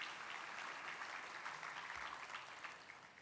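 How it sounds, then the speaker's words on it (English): Conference audience applauds for a moderator and panel speakers, a dense steady clatter of many hands clapping at a distance, fairly faint and fading slightly toward the end. "Let's give another round of applause for our moderator and speakers"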